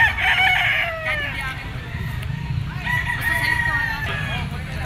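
A gamefowl rooster, a Kelso bloodline bull stag, crows loudly twice, with the first crow at the start and a second one later, over steady low outdoor background noise.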